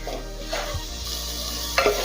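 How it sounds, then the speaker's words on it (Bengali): Spice masala for a chicken and potato curry being stirred and fried on low heat, soft sizzling with a few spoon scrapes against the pan, close and brief. "সমস্ত উপকরণ ভালোভাবে এখন নেড়েচেড়ে মিশিয়ে নেব আর মশলাটা কষিয়ে নেব।"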